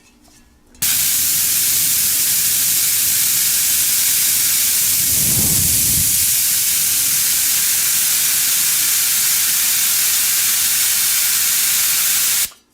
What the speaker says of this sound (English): when you let the air out of the canister